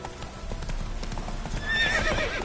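Roach, a horse in The Witcher 3, gallops with quick clip-clopping hoofbeats close by, and a whinny rises near the end of the brief burst.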